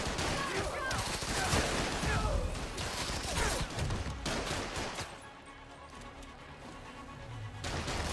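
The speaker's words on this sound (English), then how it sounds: "The police are firing." Police open fire in the Spider-Man: Miles Morales video game, a dense fusillade of rapid gunshots crackling over busy game noise for several seconds before thinning out, then picking up again near the end.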